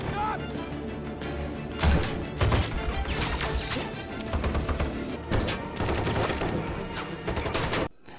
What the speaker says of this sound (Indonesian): anak buah Grace menemukan hal itu sehingga terjadilah aksi tembak-menembak